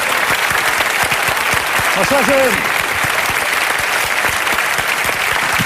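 TV studio audience applauding a talk-show guest, dense steady clapping throughout, loud and close, with a man's greeting briefly heard over it.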